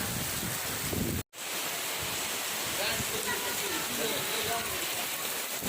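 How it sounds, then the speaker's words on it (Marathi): Heavy rain pouring down in a village, a dense steady roar of water close by that fills the whole stretch without pause apart from one brief break. "आत्ता गावाकडे खूप मोठा पाऊस आला आहे."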